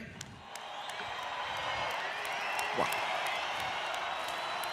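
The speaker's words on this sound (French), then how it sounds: "Applaudissements pour Laetitia, s'il vous plaît" An audience gives applause for Laetitia at a motivational business seminar, a steady wash of clapping and cheering that swells gradually and holds, with a brief spoken exclamation and occasional whoops over it.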